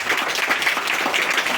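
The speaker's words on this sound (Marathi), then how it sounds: "टाळ्या वाजवा एकदा त्यांच्यासाठी" Schoolchildren at a district council primary school clap together in steady, dense applause, close and continuous for the whole short stretch with no voices.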